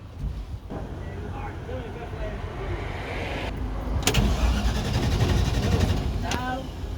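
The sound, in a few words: car engine cranking and failing to start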